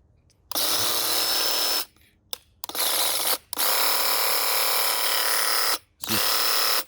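Handheld paint sprayer priming with its tip reversed, a loud steady mechanical buzzing hiss in four bursts separated by short silent gaps, alone without talk.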